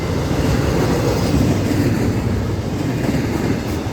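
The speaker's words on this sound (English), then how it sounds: "Anyway, we'll watch the train." A Florida East Coast freight train rolls past near St. Augustine, Florida, giving a loud, steady rumble with wheel clatter, close and continuous throughout, with no voices.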